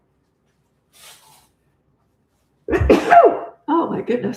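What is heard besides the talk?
sneeze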